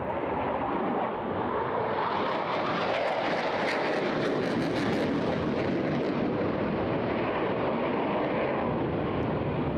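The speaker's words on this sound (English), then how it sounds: "showing how much pressure he's putting the jet under as he's pulling up to 9G to get around those tight turns" A military jet instructor's aircraft roars overhead at a seaside airshow in Eastbourne while pulling tight 9G turns, a loud continuous broadband jet-engine rush that swells and peaks mid-pass before easing, with no voices.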